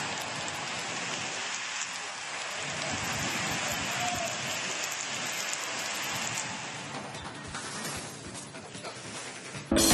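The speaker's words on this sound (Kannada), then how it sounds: "ಮೈಸೂರು ಜಿಲ್ಲೆಯಾದ್ಯಂತ ಮಳೆ ಅಬ್ಬರಿಸಿ ಬೊಬ್ಬೀರಿತಾ ಇದೆ" Heavy rain pours down across Mysuru district in Karnataka, a dense, steady roar of water on surfaces that stays loud and unbroken throughout, with no one talking.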